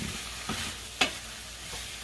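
Squid sautéing in oil with garlic and onions gives a soft, steady sizzle, broken by a few brief scraping stirs at the pan, close and fairly quiet with no voices.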